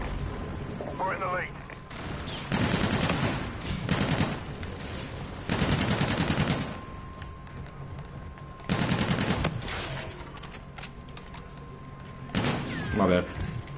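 NV4 Black Cat variant rifle firing in a video game, several rapid full-auto bursts in separate spurts, loud and close, with a person talking between them.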